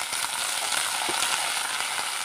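Oil sizzles steadily in a pan with green chillies for a mango and red amaranth stir-fry, a dense close hiss with faint stirring ticks and no talking.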